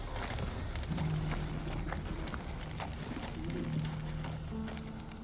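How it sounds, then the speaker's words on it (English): Pigeons in Final Fantasy XVI cooing softly in repeated low warbling calls, blended into steady ambient game noise and faint footsteps, with no voices. "Am I hearing pigeons?"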